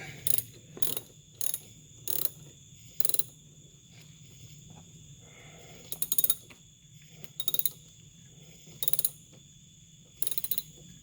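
A 13mm ratchet wrench tightens a replacement Dorman 926-882 terminal on a corroded car battery. It makes short bursts of close, rapid pawl clicking, about eight in all, with quiet gaps between strokes.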